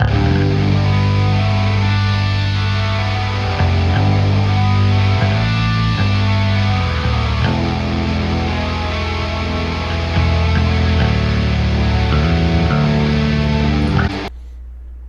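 Dense, full strummed stereo guitar recording processed with mid/side EQ, playing continuously with shifting chords and cutting off abruptly at the end, with no voices.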